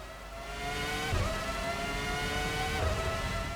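Formula One 05 racing car engine held at full throttle on a European circuit, a loud, steady high-pitched scream with two brief pitch dips as gears shift, alone without talk.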